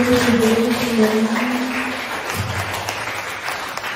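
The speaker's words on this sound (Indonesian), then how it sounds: "beri tepuk tangan yang meriah untuk Ibu Sundani" Audience applause at a school presentation, a dense burst of clapping over a background tone that thins out after a couple of seconds.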